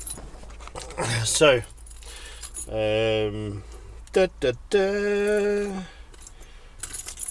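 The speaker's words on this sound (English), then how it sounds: "tons of keys." A big bunch of keys jangling with a bright metallic rattle in short bursts, heard between stretches of someone talking nearby.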